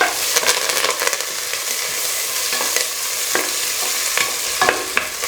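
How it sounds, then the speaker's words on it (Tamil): Onions and curry leaves sizzling in hot oil for a tripe gravy, a steady frying hiss broken by sharp scraping and clinks of a spoon stirring the pan close by. "அப்புறம் கொஞ்சம் கருவேப்பிலையும் போட்டுக்கலாம்"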